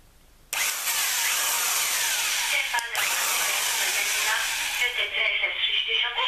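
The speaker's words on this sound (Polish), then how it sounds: "Jest to wiertarka Celma, starego typu, ale świetnie nadaje się do takich prac." An old Celma electric drill boring a hole, its loud steady whine starting abruptly and running continuously close by, with no talk over it.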